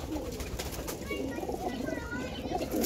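Heeralal pigeons cooing in a loft of mostly female birds, soft throaty coos under a steady background hum, with someone talking nearby.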